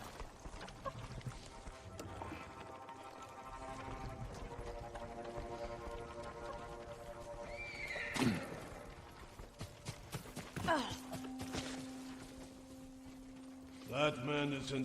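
Horses in the video game Ghost of Tsushima, with soft hoofbeats and faint clopping under quiet game ambience, a sharp whinny-like cry in the middle and more rustling hoof sounds near the end.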